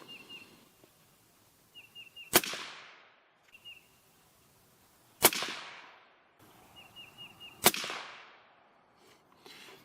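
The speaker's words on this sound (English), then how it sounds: "Let's do another group of 3 here." A suppressed CZ 600 Trail rifle fires a group of three, the sharp cracks spaced about three seconds apart, each loud and close with a short decaying tail, with faint clicks and rustling between shots.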